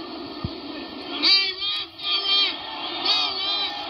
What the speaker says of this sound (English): Screams from the corner, and the crowd reacts